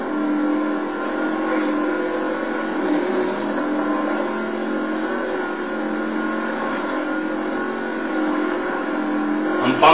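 An off-road racing vehicle's engine in the Baja Edge of Control game, running with a blown tire during the SCORE Baja 500 race, holds a steady, loud droning roar with slight swells throughout and no talking.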